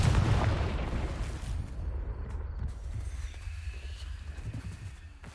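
A Confringo explosive spell in Hogwarts Legacy goes off with a loud, low boom that rumbles and slowly decays into a fading tail.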